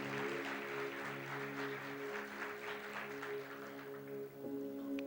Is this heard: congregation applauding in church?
yes